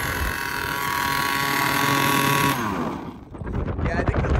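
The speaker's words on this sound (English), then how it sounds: "I think the throttle got stuck there or something. She was still revving." A gas-powered HPI Baja 5B RC car engine buzzes loudly and close for about two and a half seconds, then fades out into wind rumble and handling noise.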